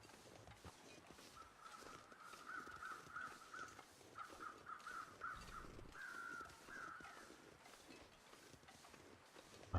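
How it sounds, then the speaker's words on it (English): Crows caw in short bursts from above in The Long Dark, a string of distinct calls over a steady outdoor wind-like background. "we've got crows above us"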